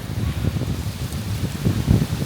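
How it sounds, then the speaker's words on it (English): Steady low rumbling wind buffeting the microphone on a windy day in a cemetery with falling leaves, with gusty swells throughout and no voices. "And I apologize about the wind."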